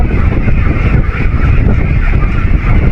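Ducks in their pen call loudly and close up with a continuous chorus of honking quacks, mixed with wind noise on the microphone.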